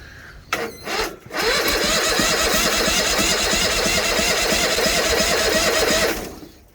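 A Bolens Hydro Eliminator tractor with a 20HP Briggs V-twin engine, outdoors in snow, cranks with a couple of brief bursts and then catches, running at a loud, steady, close idle for several seconds before cutting off.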